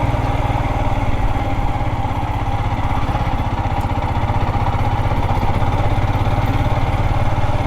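A Royal Enfield Himalayan 411 motorcycle engine chugs steadily in second gear on a snowy off-road track, a loud, close, continuous low pulsing throb with no talk over it.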